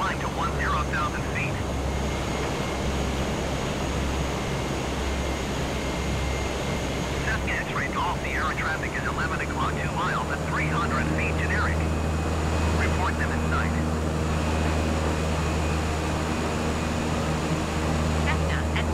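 Airplane engines drone steadily through a landing approach with flaps and gear down in Microsoft Flight Simulator, a constant low hum holding throughout with brief faint chirps over it.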